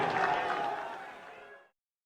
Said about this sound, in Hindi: ताली बजा करके राहुल गांधी जी का अभिवादन करें।